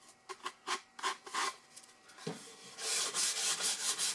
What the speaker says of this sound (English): Now I'm just going to take some sandpaper, just kind of break off the edges here.